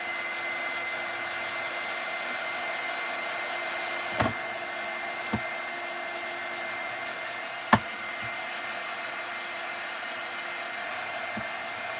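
A hair dryer blows steadily at close range over a painted wooden craft house, a constant airy roar with a few sharp knocks and taps from handling the piece.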